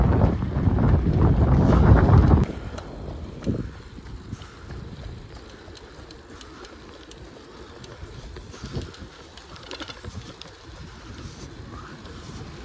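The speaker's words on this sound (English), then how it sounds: "The wind is picking up on this exposed loop." Wind buffeting the microphone on an exposed running loop during a marathon training session, roaring loud at first, then easing into steady lower gusting with occasional bumps and rustles.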